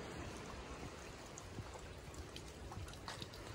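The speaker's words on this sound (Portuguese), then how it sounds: "o barulhinho de água que eu tô ouvindo é isso aqui" Water trickling steadily from a partly clogged stone spout at a rustic campsite, a soft continuous splashing dribble with faint drips, close by and alone without talk.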